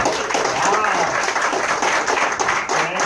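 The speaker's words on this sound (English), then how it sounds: "Let's give him a round of applause" A presentation audience at an Aurora event applauding, a dense steady burst of clapping from a crowd, fairly loud and close, with some voices mixed in.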